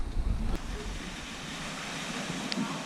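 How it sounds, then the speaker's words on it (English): Water rushing through a shallow road ford beside the Royal Oak Inn, a steady broad wash of flowing water mixed with wind buffeting the microphone, loudest at the start. "Bit of a ford to go across"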